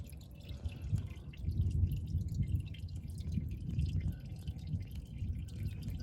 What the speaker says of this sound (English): You see there's still some flowing out, and we're going to let that flow as long as we can.